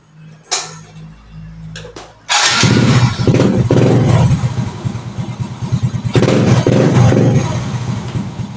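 Suzuki Smash motorcycle engine cranked with a few brief clicks and starter whirs, then catching and running loud and close, a steady rattling idle with small rev swells.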